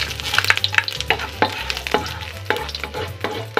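Ginger pieces frying in hot oil in a pan, a close, busy crackle of spitting oil with bursts of stirring and scraping, loud and steady without any talk.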